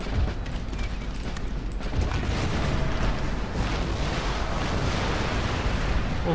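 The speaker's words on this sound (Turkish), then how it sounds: "nasıl top atışı?" Cannon artillery fire from the video game Empire: Total War, a continuous dense barrage of overlapping booms and rumbling blasts, loud and sustained, with faint voices beneath.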